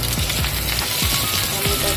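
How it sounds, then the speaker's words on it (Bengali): Onion frying in hot oil, a dense, continuous close sizzle with scattered crackles and pops, loud and steady throughout with no voices. "তেলে আগে পেঁয়াজটা দিলাম, হয়ে গেছে"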